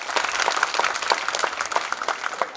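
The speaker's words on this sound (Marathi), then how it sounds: "जोरात वाजवा." An audience claps together at a health talk in Raigad, the applause steady and moderately loud with sharp individual claps, no voices over it.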